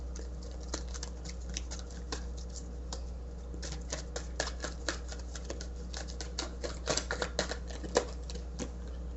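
A deck of playing cards being shuffled, a rapid, uneven patter of light flicking clicks over a steady low hum, with no talking.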